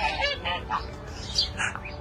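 Ducks calling among pigeons at an open-air spot in Madinah, a short burst of close, repeated honking quacks over a low background murmur.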